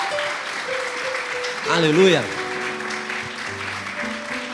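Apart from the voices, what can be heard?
congregation applause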